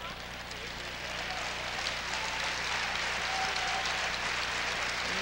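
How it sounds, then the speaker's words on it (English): Crowd applause fills a school auditorium during a 1993 girls' Class D high school basketball final, a steady broad wash of clapping from both sides of the gym that holds at an even level throughout, with faint voices beneath. "both sides of the auditorium giving Janet Cornell a nice round of applause"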